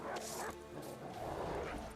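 Dogs bark in The Witcher 3, a few quick yips and woofs fairly close, mixed with game noise and a busy background.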